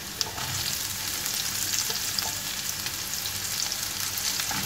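Ginger, green chilli, crushed garlic and onion fry in hot oil for a Kerala-style beef fry, giving a steady close sizzle with faint stirring clicks.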